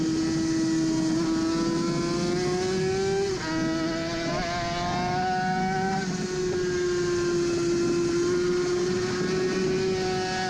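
A Suzuki RG500 two-stroke racing motorcycle roars onboard at the Isle of Man, its high, buzzing engine note held loud and steady with brief shifts in pitch, up close and alone.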